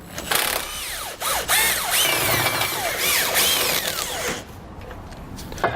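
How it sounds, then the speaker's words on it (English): A power tool fitted with an 18mm socket spins bumper-beam nuts off a vehicle, its motor whining in rising and falling pitch sweeps through several close, loud bursts before dropping off near the end. "we're going to want to grab an 18mm socket, and we'll pull the two nuts off of each side"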